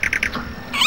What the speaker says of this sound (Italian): E avvertiamo primi uccelli